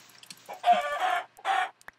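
Minecraft chicken clucking in a survival game, a short burst of close, clear clucks, then a second cluck after a brief pause.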